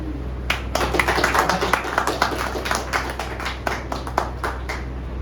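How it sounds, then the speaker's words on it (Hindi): An audience claps loudly to welcome a guest being garlanded at a company annual function, a dense burst of applause lasting several seconds. "एक बार जोरदार तालियों से स्वागत किया जाए"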